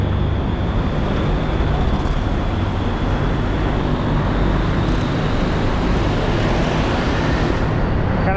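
Cars pass along a street in Thailand in a dense, continuous roar of traffic that stays loud and steady throughout, with no voices heard.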